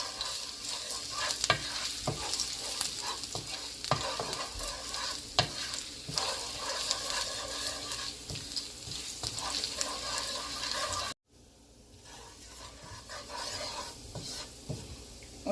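Vegetable fried rice with ginger being stir-fried in a pan: continuous sizzling with repeated scraping and stirring strokes, close and moderately loud, dropping briefly quieter near the end before the frying picks back up.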